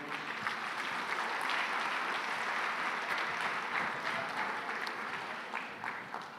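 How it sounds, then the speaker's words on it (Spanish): A church congregation at a Sunday service gives steady, sustained applause, a dense wash of many hands clapping together at moderate distance, with no voices standing out. "dele un fuerte aplauso al Señor."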